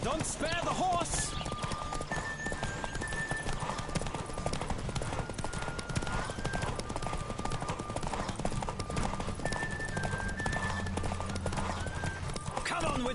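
Galloping horse hooves pound steadily through a horse race in The Witcher 3, a dense, continuous clatter of hoofbeats close up, with game music and occasional shouted voices layered over it.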